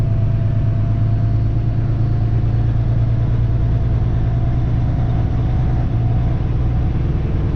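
A 2008 custom Peterbilt 389 truck pulls in with a loud, steady low engine drone and rumble that holds evenly throughout.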